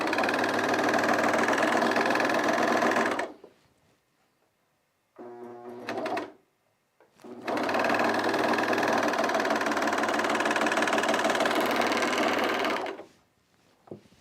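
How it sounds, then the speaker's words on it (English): A serger overlocks a trouser seam at the knee notch, running in two long loud, steady bursts of rapid mechanical whirring, split by a pause with a short stop-start stitch run, close up. "So I pull it apart like this as I go over it with the serger."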